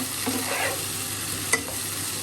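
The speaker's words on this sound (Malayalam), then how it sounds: "എല്ലാം നന്നായി ഒന്ന് മിക്സ് ചെയ്യും." Diced elephant foot yam stir-frying in a pan over high heat, a steady sizzle with a spatula scraping and stirring through it and one sharp clack of utensil on metal.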